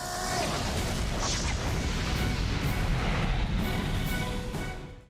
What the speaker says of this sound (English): look at these explosions